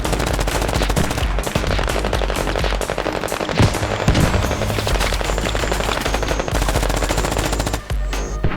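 Sustained rapid gunfire in the video game Squad, dense automatic bursts with explosions, loud and nearly continuous throughout.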